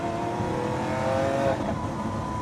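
Lamborghini Aventador S accelerating hard from a standing start, a loud continuous engine roar with rising harmonics that swell and then break at a gear change, heard close from inside the car.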